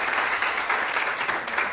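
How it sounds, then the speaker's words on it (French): Audience at an awards event applauding an honoree, a brief steady burst of dense clapping with no talk. "Donc on peut l'applaudir"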